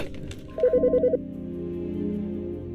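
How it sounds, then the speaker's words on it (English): A phone rings in the game Autopsy Simulator with a quick burst of pulsed electronic tones, then settles into a steady lower tone, clear and alone. "The fucking phone."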